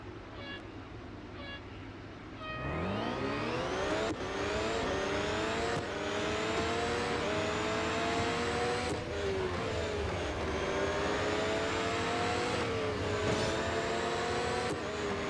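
Formula Future race car lapping a track in the Real Racing 3 mobile game: a loud, high, whining engine roars in from near silence after a few seconds, then revs steadily with rising and falling pitch sweeps at gear changes.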